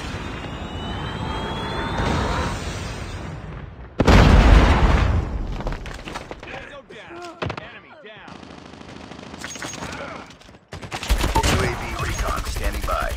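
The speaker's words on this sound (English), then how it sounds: "Predator missile inbound." Predator missile strikes in the Call of Duty video game: loud booming explosions mixed with bursts of gunfire and aircraft roar, with blasts hitting hard around four and eleven seconds.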